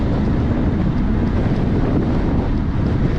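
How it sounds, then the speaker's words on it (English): Steady rushing wind roars across the microphone while a rider tucks low on a vintage bicycle coasting downhill, a constant dense buffeting with no talk. "A little bit of wind, but it's not affecting anything."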